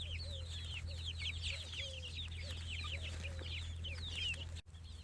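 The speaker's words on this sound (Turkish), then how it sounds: "İşte gezen tavuk dedikleri bu olsa gerek arkadaşlar." Several chickens cluck and chatter close by outdoors among chicks, over a steady low hum, with busy overlapping calls throughout.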